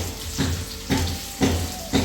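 Pizza ingredients fry and sizzle in a pan, a steady close crackle with soft swells roughly every half second as the food is stirred or turned.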